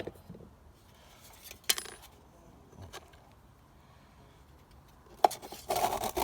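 Someone takes a homemade camping stove built from a Stanley pot out of its storage, making a few sharp metallic clinks and light scrapes against a quiet background, followed by rustling at the end.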